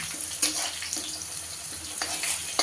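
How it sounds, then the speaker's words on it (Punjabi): Green chillies frying in a pan for a bhindi sabzi, a soft steady sizzle with occasional sharper crackles and spatters, close and alone. "ਹੁਣ ਇਹ ਆਪਾਂ ਹਰੀ ਮਿਰਚ ਇਹਨੂੰ ਥੋੜਾ ਜਿਹਾ ਫਰਾਈ ਕਰਕੇ"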